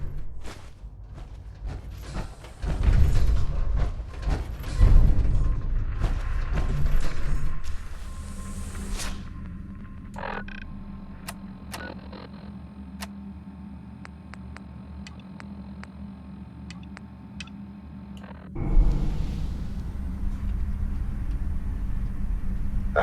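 Elevator in Fallout 4, first clattering and rumbling as it starts off, then a steady low hum with scattered ticks and clicks, ending in a louder rumble as it stops.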